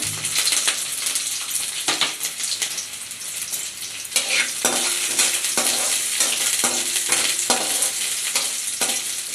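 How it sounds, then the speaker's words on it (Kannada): Onions sizzle and crackle with mustard seeds in hot oil in a pan, a dense continuous frying hiss with scattered pops and light clinks of a utensil against the pan. "ಈಗ ಈರುಳ್ಳಿ ಫ್ರೈ ಮಾಡ್ಕೊಳ್ಳೋಣ"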